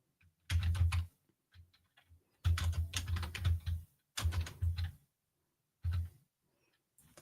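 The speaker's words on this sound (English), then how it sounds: "Is this keyboard loud, guys?" Computer keyboard typing in bursts of rapid clicky keystrokes separated by short pauses, close and fairly quiet, with no voices.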